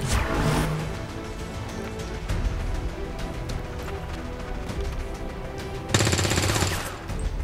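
Rapid gunfire from the XCOM 2 War of the Chosen video game, a dense continuous burst of shots filling the clip, growing sharper and louder near the end, with no talk.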